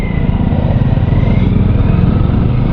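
A Yamaha R15 motorcycle rides through traffic, its engine holding a loud, steady drone with wind rush and no one speaking.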